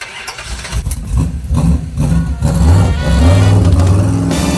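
A Ford muscle truck pulls hard at wide open throttle in third gear, the engine note climbing and swelling louder into a sustained roar with no talking.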